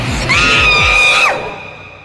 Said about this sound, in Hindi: जोर से चीखी